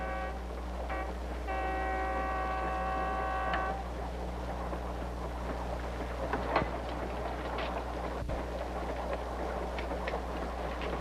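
A train rumbles along steadily with a low continuous drone, a sustained horn-like tone early on, and scattered clanks from the rails.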